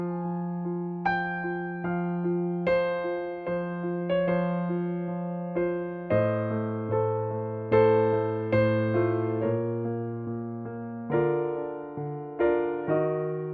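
Solo piano improvising a short passage over a dominant seventh chord with a rising bass line, a series of sustained chords and single notes played softly and alone.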